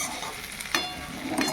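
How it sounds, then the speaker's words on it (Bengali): Cabbage curry with onion and tomato cooking in a pan, a soft sizzle with scraping stirring strokes and light clinks of a utensil against the pan, close and quiet. "এইখানে আমি এই যে কপির তরকারি বসিয়েছি"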